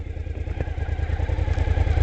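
Motorcycle engine running just after the start button is pressed, a steady close low throbbing idle with a quick regular pulse and light mechanical clatter.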